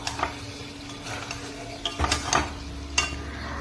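Matar paneer masala being sautéed in a pan, a soft sizzle under repeated scraping and clinking of a spatula against the metal, close by with no voices.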